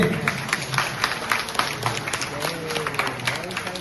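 An audience claps at a calligraphy and painting exhibition, giving a steady patter of many hands, moderately loud and fairly close, with a voice talking underneath.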